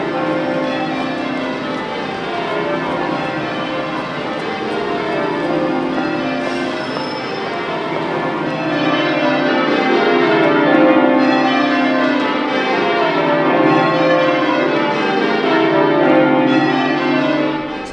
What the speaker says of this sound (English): So it does take time just to be able to ring a bell on your own, and then to try and fit in with other people.